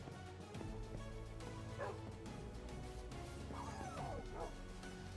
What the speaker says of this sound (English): Got some dogs.